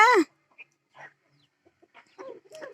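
A black native Kadaknath-type chicken (karunkozhi) gives a loud squawk followed by a series of soft, scattered clucks and low murmurs, close by in otherwise quiet surroundings.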